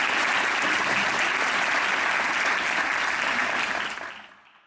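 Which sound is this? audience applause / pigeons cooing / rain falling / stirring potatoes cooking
audience applause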